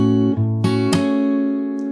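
A fingerstyle acoustic guitar plays the opening part of a chord: a few plucked notes in quick succession, each adding a bright attack, then ringing together and slowly fading, close and clear with no voice.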